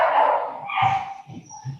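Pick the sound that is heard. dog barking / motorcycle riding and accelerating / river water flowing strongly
dog barking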